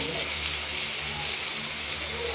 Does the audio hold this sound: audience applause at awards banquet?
no